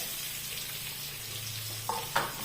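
Green chillies, onion and ginger fry in hot oil in a pan with a steady, close hiss, and a couple of brief louder crackles come near the end.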